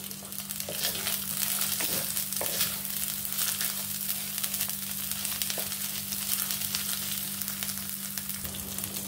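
Ginger, garlic and Kashmiri chilli powder fry in a pan for chicken kanti. A steady crackling sizzle runs underneath occasional stirring scrapes, close and moderately loud, over a faint constant hum, with no talking.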